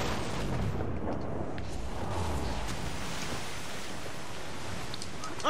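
Ship cannon fire in Assassin's Creed 4 Black Flag at sea, a dense wall of booming blasts and rumbling noise that stays loud and steady throughout.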